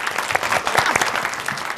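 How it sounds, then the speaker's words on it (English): An audience applauds guests at a youth talk event in Macao, steady dense clapping filling the room for a short burst, with a faint murmur of voices beneath. "Let's give them a big round of applause"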